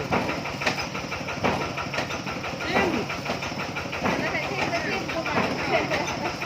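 A nearby engine is revved again and again in short bursts over a rough idle, the throttle rising and falling in a loose rhythm while people talk alongside it.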